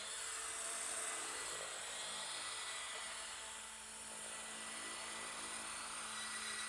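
A high, steady whine of a Roban EC130 RC helicopter's rotor and motor climbing hums continuously, dipping slightly midway, with a buzzing high-pitched tone.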